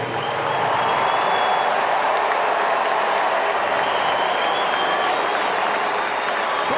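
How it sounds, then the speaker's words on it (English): A baseball stadium crowd applauds a player in a loud, dense, sustained wash of clapping and cheering that runs unbroken from start to finish. "Tipped his cap to the crowd when they applauded him after the video"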